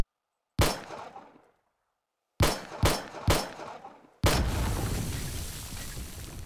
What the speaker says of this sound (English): Let's shoot it a few times.